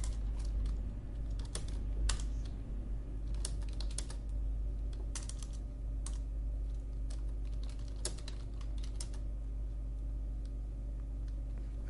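Quiet, irregular clicking of a computer keyboard being typed on, scattered keystrokes and short bursts over a steady low background hum, no talking.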